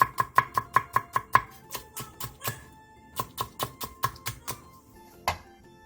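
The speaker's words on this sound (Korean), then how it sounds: "대파 조금을 쫑쫑 썰어주세요" A knife finely chops green onion on a cutting board in two quick bursts of crisp, evenly spaced knocks, close and clear, separated by a brief pause and ending with a single last chop.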